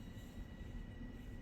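Long Island Rail Road train running in the Train Sim World video game, a steady rumbling roll of wheels on track with faint high squeal, continuous and close, with no talk.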